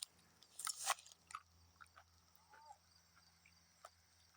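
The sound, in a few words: biting into a crunchy Ho Chi Minh hot pepper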